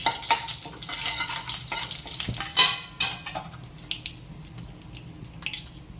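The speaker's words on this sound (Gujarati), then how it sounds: "હવે બરાબર આ મસાલાને સાતળશું" Bay leaf and a piece of cinnamon sauté in hot oil for paneer butter masala, with a steady close sizzle and intermittent stirring scrapes against the pan.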